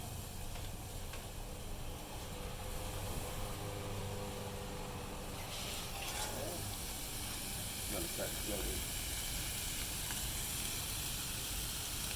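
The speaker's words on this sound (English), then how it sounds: "We're getting that barbecue sauce really kind of seared on there a little bit" Tender sous vide ribs coated in sugary barbecue sauce searing on a grill, with a continuous soft hiss and sizzle under a talking voice.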